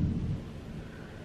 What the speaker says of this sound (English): Did you hear the thunder? It just thundered.